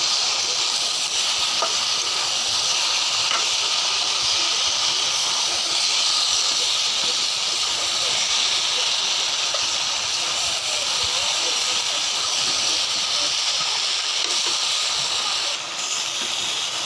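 Fried fish heads sizzle steadily in a hot pan, a loud continuous hiss of frying oil holding unbroken throughout.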